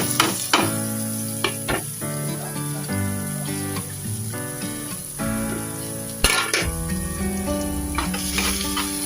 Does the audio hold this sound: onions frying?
yes